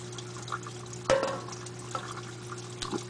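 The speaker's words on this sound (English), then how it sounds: "This is the water, it's like from the pump going into it." Water from a pump flows into a small DIY aquarium phosphate reactor, a soft steady trickle and drip with a low constant hum beneath and a sharper splash near the middle.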